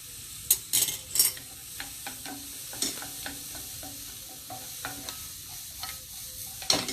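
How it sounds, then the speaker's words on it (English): Vegetables sauteing in a pan give a soft, steady sizzle, broken by scattered scrapes and clinks of a utensil stirring against the metal, close by and fairly quiet. "So I just saute just a bit, like 1 minute more or less."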